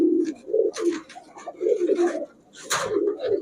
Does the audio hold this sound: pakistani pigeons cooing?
yes